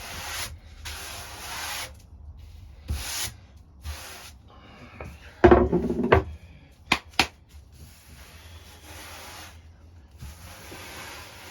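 Zebrano wood is sanded by hand in short hissing, rasping strokes broken by pauses, with a louder burst of scraping and a few sharp knocks midway, close and unaccompanied by talk.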